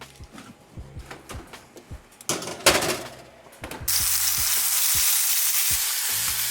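Sausage sears in a hot skillet for a crust, starting with scattered clicks and clanks of handling, then a burst of crackle, and finally a loud, steady sizzle that fills the last few seconds up close.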